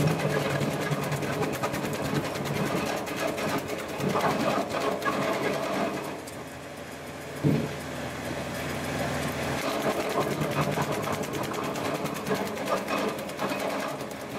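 A TMG 3-point hitch firewood branch logger runs steadily off a tractor PTO at 540 RPM, giving a continuous loud mechanical whirring drone with a brief thump near the middle.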